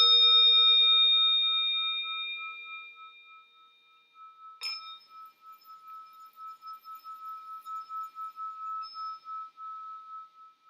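A bell is invited with a gentle circular stroke rather than struck. The sustained ring fades slowly, then a light clink arrives and a softer, pulsing shimmer lingers, quiet and alone.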